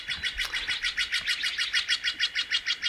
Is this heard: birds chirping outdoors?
yes